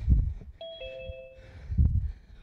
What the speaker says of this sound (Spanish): cuando suena el timbre